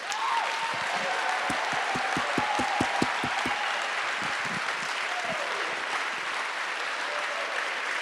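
A school concert audience applauds percussion and jazz ensemble leaders with steady, fairly distant clapping, while a few sharp, evenly spaced low thumps sound early on.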